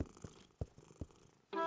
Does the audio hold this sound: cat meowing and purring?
yes